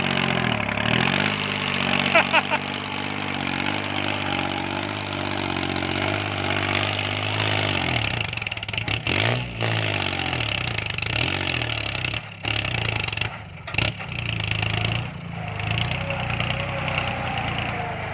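A Kubota L3608 tractor engine runs steadily while working a drained pond for eels, a loud continuous diesel drone whose pitch dips and recovers partway through, with brief dropouts near the end.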